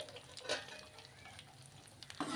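Prawns fry in a pan of oil for pickle, a faint continuous sizzle with a couple of scraping stirs of a spoon.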